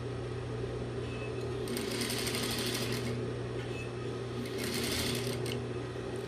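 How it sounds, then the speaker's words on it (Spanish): A sewing machine stitches the corner of a blouse, its steady mechanical hum underlying two bursts of rapid, rattling needle strokes, each lasting about a second and a half, with a pause between them. "Llegamos a la esquina, clavamos la aguja, levantamos el prensatelas y giramos."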